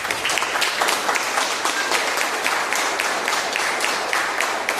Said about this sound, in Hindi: परमेश्वर के लिए एक बार जोर से ताली बजा दें।